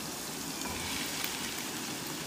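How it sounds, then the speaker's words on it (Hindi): Onions and white lobiya (black-eyed beans) fry in a pan, giving a steady, close, continuous sizzle with faint stirring and no voices. "थोड़ा सा मैं प्याज को फ्राई करूँगी, हल्का सा"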